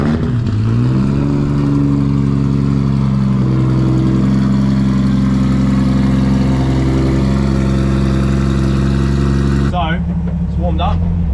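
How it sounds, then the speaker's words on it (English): A Nissan S14 Silvia with an RB25DET engine cold starts, cranking briefly then settling into a loud, steady high idle that hums on for several seconds before the engine note drops and wavers near the end. "We'll give you guys a cold start."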